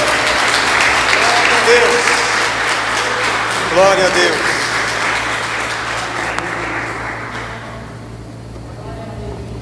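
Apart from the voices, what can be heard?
church congregation applauding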